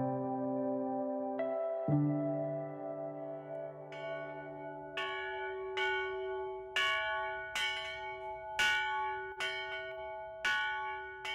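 Church bells in a Brazilian sanctuary ring out clearly. A few long sustained tones open, then a steady run of struck bells follows with bright overlapping rings, each decaying slowly.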